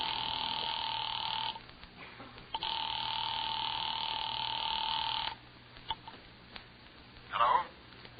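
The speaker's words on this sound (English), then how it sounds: "had just dialed the telephone number." A telephone in a radio drama gives out a steady dial tone that cuts off, comes back and stops again, followed by faint clicks and a brief burst at the end.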